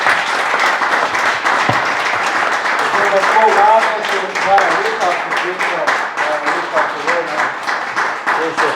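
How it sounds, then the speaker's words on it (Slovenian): Loud, sustained audience applause closes a Slovenian round-table event marking an institute's tenth anniversary, with a voice briefly heard over the continuous clapping partway through. "en aplavz, če lahko še."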